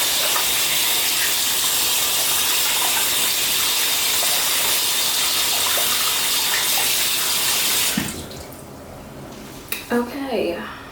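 Water runs from a tap while hands are washed, a loud steady gushing hiss that cuts off near the end, after which a few splashes and drips follow; a person talks over the flow.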